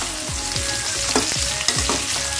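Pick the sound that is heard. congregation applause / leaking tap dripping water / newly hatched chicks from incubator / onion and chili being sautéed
onion and chili being sautéed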